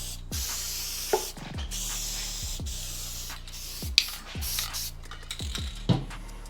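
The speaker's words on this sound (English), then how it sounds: "we spray glue along this raised edge, and we get the back of the carpet also" Spray glue from an aerosol can coats the raised edge of a DIY ported car subwoofer box and the back of its carpet in a run of close, repeated hissing bursts, each ending with a short clicking rattle from the can.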